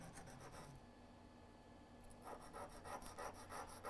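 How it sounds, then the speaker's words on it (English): A metal tweezer tip is ground to sharpen it during key fob repair work, giving a faint, close rasping scrape in repeated short strokes, pausing briefly before resuming in a quicker rhythm. "I can really feel the grinding on that tweezer"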